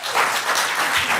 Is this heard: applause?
yes